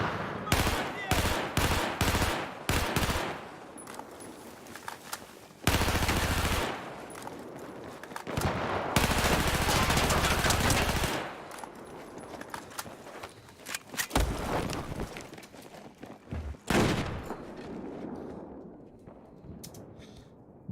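Automatic gunfire from an ACOG-sighted, heavy-recoil gun in Battlefield 4 crackles in loud, rapid bursts, with short volleys early on and longer sustained strings of shots later, while a voice talks between and over them.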